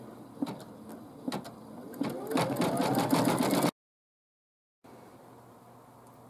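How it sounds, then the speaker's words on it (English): A sewing machine stitches ornamental edging on a mug rug, running in short bursts that build into a steady, louder whir before stopping abruptly; after a pause, only a quiet room hum remains. "So we're just going to stitch this, and we'll be back shortly."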